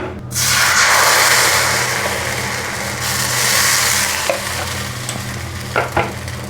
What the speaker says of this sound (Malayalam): ഇനി നമുക്ക് മാവ് ഒഴിക്കാം